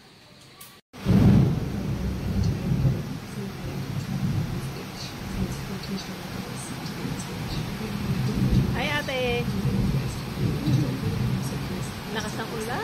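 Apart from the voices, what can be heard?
heavy rain falling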